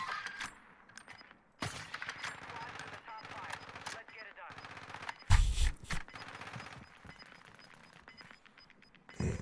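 Rapid bursts of automatic gunfire from the Warzone 2 video game, dense and layered with one loud close burst in the middle, running continuously under game sound effects.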